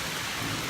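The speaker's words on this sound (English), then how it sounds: "It's a little more rain this time." Steady rain pours down in a summer thunderstorm, a dense, even hiss close around with no break across the short stretch.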